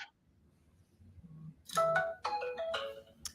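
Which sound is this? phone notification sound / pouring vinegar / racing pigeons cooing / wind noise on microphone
phone notification sound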